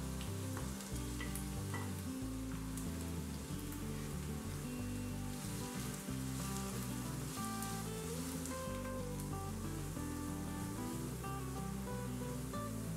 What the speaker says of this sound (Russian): И сразу отправляем их обжариваться на растительном масле.